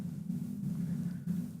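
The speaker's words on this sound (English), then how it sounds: "sounds like distant off-board motor sound." A distant boat outboard motor drones as a low, steady hum in the Endless Ocean Luminous underwater diving game, faint and continuous with a slight throbbing pulse.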